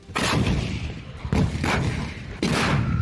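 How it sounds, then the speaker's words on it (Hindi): Azerbaijani artillery fires on enemy positions in released war footage, with three heavy booming blasts spaced about a second apart, each followed by a rumbling roar, loud and close. "इन वीडियो में अजरबैजान का तोपखाना दुश्मन के ठिकानों पर आग उगलता दिखाई दिया।"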